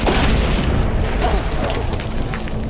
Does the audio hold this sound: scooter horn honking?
no